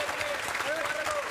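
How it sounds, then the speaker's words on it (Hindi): Short burst of applause from a group in a classroom cheering a student's final selection as a clerk, steady clapping with faint voices and a tonal whistle-like sound over it. "जोरदार तालियां बजाओ"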